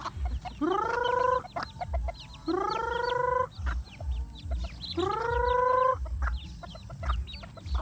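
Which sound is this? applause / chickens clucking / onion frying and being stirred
chickens clucking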